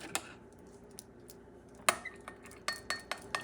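Salad dressing of lemon juice and sweetener stirred in a small bowl, heard as a scatter of light, sharp utensil clinks against the dish, sparse at first then a quicker run of taps near the end.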